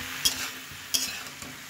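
Bottle gourd pieces sautéing in a pan with ginger and split urad lentils, a low sizzle broken by two sharp spatula scrapes and a lighter third stir.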